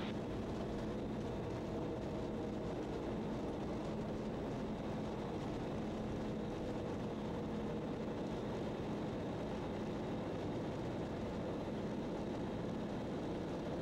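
A Raptor prototype aircraft taxiing makes a steady, fairly quiet engine drone with a broad airy roar and low rumble that holds unchanged throughout, with no voices.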